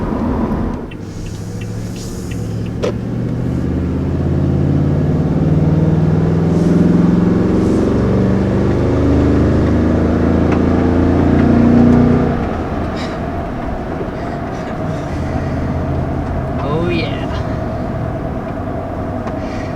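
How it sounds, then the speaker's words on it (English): A deep, rumbling V8 engine of a pickup truck drones steadily, swelling louder as it revs, then settling back to a lower idle; a brief voice speaks. "just listen to that sound. big burly V8."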